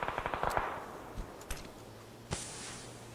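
A rapid burst of automatic gunfire in PUBG opens the clip, followed by a few scattered single shots and a sharp blast, fairly distant and muffled.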